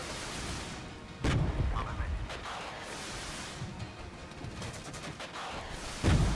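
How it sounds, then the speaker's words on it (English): Off-map artillery fire in the Regiments video game, set in a 1989 battle: heavy booming impacts land at intervals, two sharp strikes standing out over continuous rumbling battlefield noise, with a voice talking throughout. "Taking a lot of artillery on Grove. That's off-map artillery as well."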